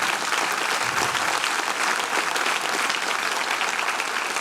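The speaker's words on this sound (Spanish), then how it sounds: "Dale un aplauso fuerte, Señor." Church congregation applauding during a sermon, a loud, dense and steady wash of clapping from many people without pause.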